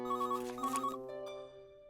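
An electronic phone ringtone in a cartoon trills in short repeated bursts, then a sustained tone lingers briefly; fairly faint and close.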